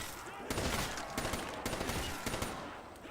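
Rapid video game gunfire while shooting zombies: bursts of quick shots crackle in clusters over a constant noisy background, fairly distant and muffled, with no voices.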